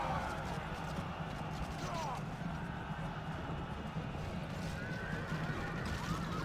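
Horses in a Byzantium campaign battle in a video game whinny over steady galloping hoof clatter and a dense battle din, continuous and busy throughout.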